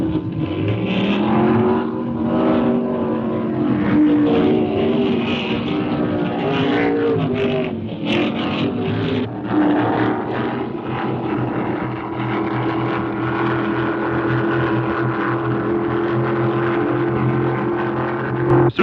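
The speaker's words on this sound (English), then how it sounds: "These craft are the fastest turning, fastest accelerating course racing boats in existence" Powerful racing ski runabout boat engines roar continuously on a race course, their pitch rising and falling as the craft accelerate and turn, loud and sustained with no speech.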